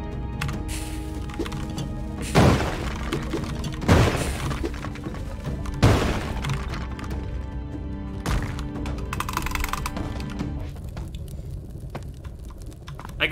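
Bombs explode and shatter blocks in Spelunky 2, several booming blasts with crumbling debris spaced a couple of seconds apart over a busy layer of game sound, loud and close.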